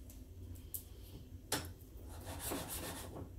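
A chisel worked on a coarse sharpening stone gives soft, gritty rubbing strokes broken by a few sharp scraping clicks, fairly quiet and close, with no talking.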